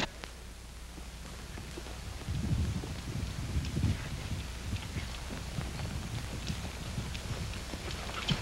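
Hooves clip-clop at a steady walking pace, soft and somewhat distant, with faint rustling around them.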